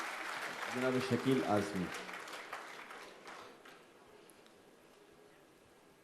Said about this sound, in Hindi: तालियों से फिर एक इस्तकबाल कर लीजिए आप इनका